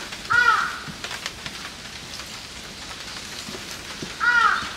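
Crows cawing on Mt. Inari in Kyoto, two separate calls a few seconds apart, near and clear, over a steady hiss of rain or light ambient noise on the mountain trail.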